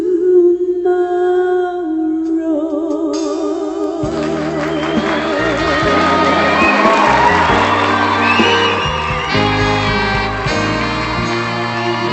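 Audience at a televised Chinese music show cheering and whooping after a duet, with crowd noise swelling over fading music and bright tonal sounds, loud and sustained throughout.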